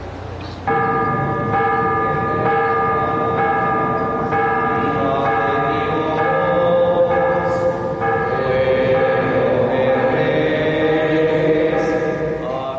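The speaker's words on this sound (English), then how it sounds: "church bells called the residents to Mass" Church bells ring steadily and loudly for Mass in a storm-damaged neighborhood, overlapping strikes sustaining a rich, ringing tone throughout with no pauses.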